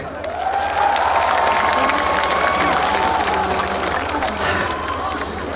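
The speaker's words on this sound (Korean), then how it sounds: "박수 한번 주세요" A large outdoor crowd at a K-trot festival in Daegu applauds and cheers steadily, a broad roar of clapping with faint voices and some low stage hum underneath.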